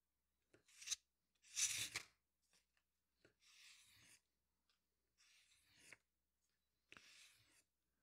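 Hand sanding a vintage jewel press with 1000 grit sandpaper: five separate rasping strokes, each about half a second to a second long, spaced by short pauses, close and fairly quiet, with no talking.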